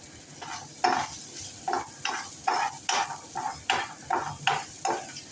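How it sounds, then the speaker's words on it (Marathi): Finely chopped curry leaves being sautéed in a pan for vari rice upma: a regular rhythm of about a dozen spatula scrapes and stirs over a light sizzle, close and clear. "थोडासा बारीक चिरलेला कढीपत्ता तो सुद्धा परतून घेऊया"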